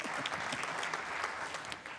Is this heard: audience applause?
yes